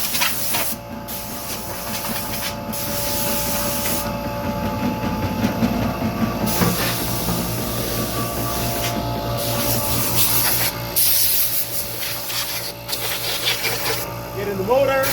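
Compressed air blasts up from underneath into the rollers of a Monster Mill MM3 Pro mill stand, a loud, steady broadband hiss running nearly continuously in bursts against a machinery hum.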